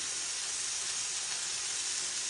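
Sliced onions hitting a hot griddle on a deluxe grill and griddle, a steady bright hiss of steam and sizzle that fills the whole stretch, close and even.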